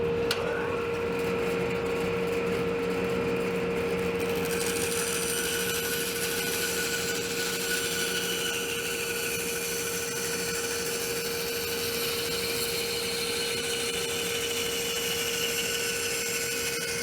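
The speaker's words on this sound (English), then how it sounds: "take it over to the bandsaw, cut on the outside of the line, and then bring it to the sander and sand it to the line." A bandsaw cuts a wooden arch and then a sander works it, giving a steady, loud machine drone with a constant hum throughout, running alone without talk.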